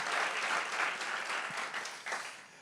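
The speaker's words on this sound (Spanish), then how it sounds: "denle un fuerte aplauso a nuestro Dios" Church congregation applauding, a broad continuous patter of many hands, fairly faint and distant, easing slightly toward the end.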